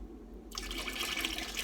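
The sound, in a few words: pouring underglaze onto a ceramic piece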